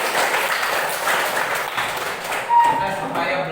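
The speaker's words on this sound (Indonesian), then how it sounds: "tepuk tangan." A classroom of Islamic religious education students clapping together, a short burst of rapid, uneven applause that fades as a voice and other noises take over near the end.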